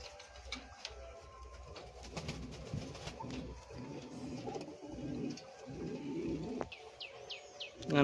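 A pair of pouter pigeons gives low, throaty coos in repeated bursts, close by. Other birds chirp faintly in the background and there are a few small knocks.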